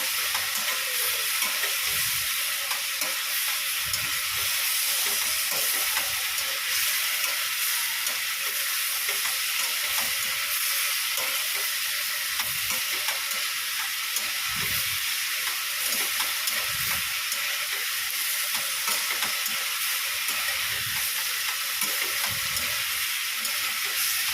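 Soaked chickpeas with salt, turmeric and cumin sizzle and fry steadily in a pan, a constant hissing crackle with occasional soft stirring scrapes, no voices.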